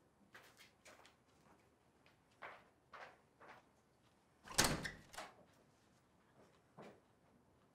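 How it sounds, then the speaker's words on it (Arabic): A door being opened indoors in a home, with a louder thump and clatter of the door near the middle amid scattered soft knocks and footsteps, moderately quiet and without speech. "افتح الباب"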